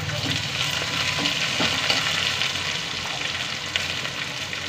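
Raw mango pieces fry and sizzle steadily in a hot pan for Andhra mango dal curry, a loud continuous crackle with occasional stirring clicks, no voices.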